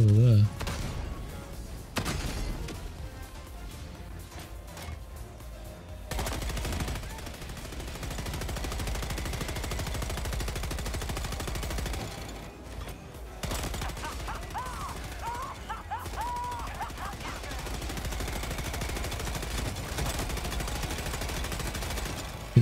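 Machine gun fire rattles in a shooter video game. Bursts come close and far at moderate level, with background game noise and a brief pause midway.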